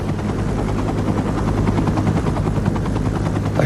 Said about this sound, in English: Pilot Craig Cowley flew the helicopter as low as he safely could in the dark.